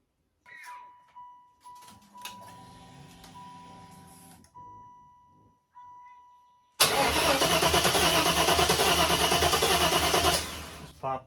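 A Chevrolet Impala SS with an LT1 engine and a new intake cranks, first in short starter bursts with some clicks and whine, then in a long, loud, continuous crank that doesn't catch.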